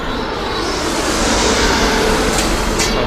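A WAP-7 electric locomotive at a station platform, with steady loud broadband rail and train rumble throughout and a couple of brief higher hissing bursts near the end.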